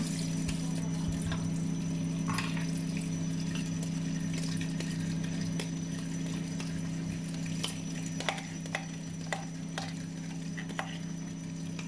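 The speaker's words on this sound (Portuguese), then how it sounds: "Vamos sempre passar isto muito bem por água corrente." Canned beans are rinsed under a running kitchen tap, giving a steady, continuous hiss of flowing water with scattered light ticks and clinks close by throughout, with no talking.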